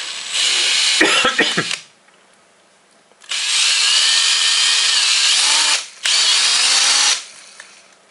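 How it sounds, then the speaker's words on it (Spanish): A power drill fitted with a 2 mm bit bores a hole while building a regenerative AM and shortwave radio receiver, giving two long, loud, steady whines with a short burst and pause between them, no talking. "Vamos a hacerle ahora en el mismo sitio el mismo taladro. Pero ahora con la broca de 2 milímetros."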